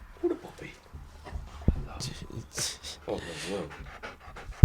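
A dog pants in quick, breathy bursts close by, mixed with short whimpers and shuffling, while a person talks over it.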